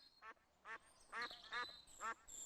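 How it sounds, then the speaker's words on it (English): Ducks quack in a faint, evenly spaced run of about five short nasal calls over roughly two seconds, with no other sounds around them. "said Tec, as the ducks giggled at him. Quack, quack, quack"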